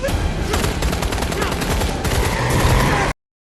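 Rapid gunfire from a film scene as a soldier shoots at a mysterious creature, dense bursts of shots crackling continuously for about three seconds before cutting off abruptly.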